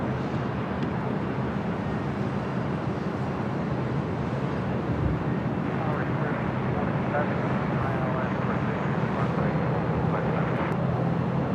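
A Korean Air passenger jet at Los Angeles International Airport produces a continuous broad engine roar with wind rumble, steady and fairly loud, while a voice talks over it.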